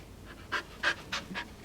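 A dog named Lily pants close by in quick, breathy bursts, four or five rhythmic huffs in a row with no talking over them.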